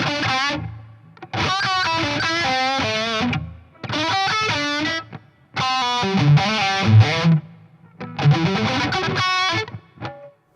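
An electric guitar through an EVH 5150III amp with reverb set low plays distorted chords and riffs in several short bursts, each ending in a brief tail before the next phrase.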